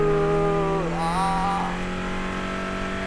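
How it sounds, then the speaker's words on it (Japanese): A three-row minivan with a 280 hp 3.5-litre V6 at full throttle on Tsukuba circuit, its engine note droning steadily and rising briefly as a gear change dips and recovers the pitch, heard from close by in-cabin. "とりあえず全開してみようか。"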